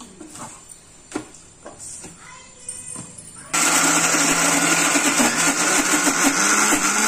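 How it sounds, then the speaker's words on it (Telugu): A few quiet clicks and clatter, then a mixer grinder switches on midway, puréeing raw jackfruit, and whirs loudly and steadily until the end. "సో ఇది ఇట్లా మిక్సీకి పట్టుతాను."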